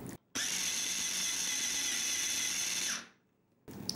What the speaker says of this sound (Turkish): kenarından bir toparlayıp tekrar robottan geçiriyorum